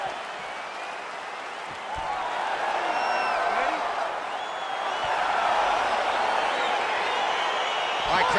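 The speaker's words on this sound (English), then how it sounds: "crowd getting excited as this fight gets underway" A video game arena crowd in EA Sports UFC 4 cheers and murmurs as an MMA fight begins, the roar rising after a couple of seconds and holding steady beneath a commentator's voice.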